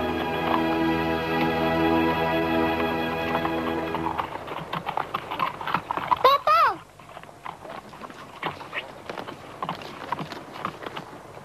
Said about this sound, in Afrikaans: Dis die mooiste perd wat ek nog gesien het.